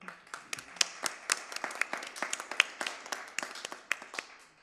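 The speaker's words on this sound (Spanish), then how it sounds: "Quisiera con un aplauso recibirlo." Scattered hand clapping from a small group, irregular and fairly close, building into a brief round of applause with no talking.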